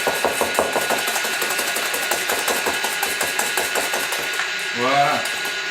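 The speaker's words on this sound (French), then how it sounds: "on vient bien fouetter, on vient les blanchir" Eggs whisked by hand in a bowl until pale for homemade chocolate mousse, a fast, steady rhythm of close, regular clicks and taps, with a brief voice near the end.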